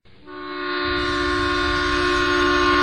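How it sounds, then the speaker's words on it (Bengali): A train pulls into Medinipur station in a Bangla horror animation, sounding a long, loud, steady horn blast over a rising rumble of wheels, with no talk. "অবশেষে ট্রেন গিয়ে থামলো মেদিনীপুর স্টেশনে।"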